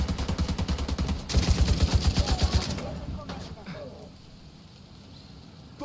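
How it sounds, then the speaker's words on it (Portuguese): Rapid automatic gunfire from Tom Clancy's The Division 2 rattles in loud repeated bursts for nearly three seconds, then gives way to quieter scattered shots and a low ambient tail. "Nós já estamos aqui trocando tiro já."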